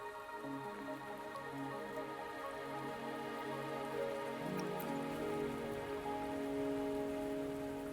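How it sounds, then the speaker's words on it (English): Steady rain falls throughout in a video game, a constant even patter on surfaces with a low tonal music bed underneath and no speech. "Are you trapped here by the rain?"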